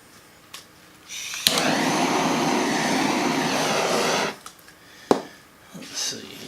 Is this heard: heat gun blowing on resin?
yes